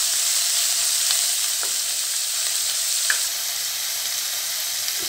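Tomato mixture frying in a pan while being stirred: a loud, steady hiss and sizzle throughout, with faint scraping touches of the spoon now and then.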